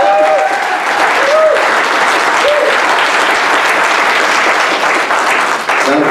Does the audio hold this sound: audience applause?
yes